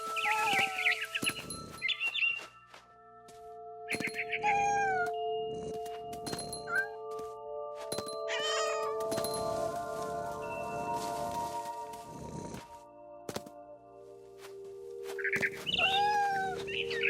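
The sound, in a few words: cat meowing in video game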